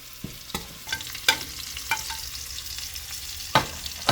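Garlic and ginger sizzle softly in a pan, with sharp scraping knocks from a utensil stirring at irregular intervals throughout.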